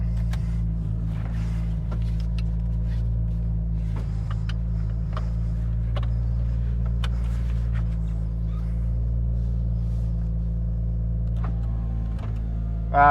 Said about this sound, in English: Not a bad E85 cold start.